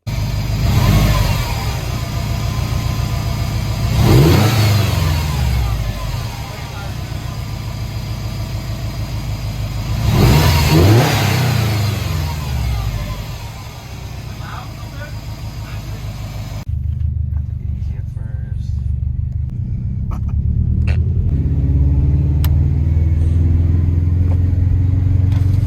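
Subaru STI fitted with a Cobb Redline carbon intake revs up twice in strong, loud sweeps from a steady idle, then settles back to a rumbling idle close by.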